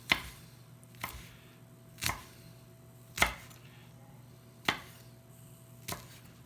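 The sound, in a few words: knife chopping rolled-up fresh basil leaves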